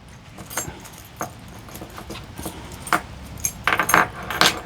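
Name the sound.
bunch of keys jangling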